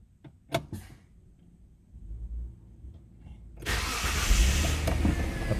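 A car's engine catching on the first try at a repair shop: a few clicks and a short rattle, a quiet pause, then the engine starts and settles into a loud, steady close idle.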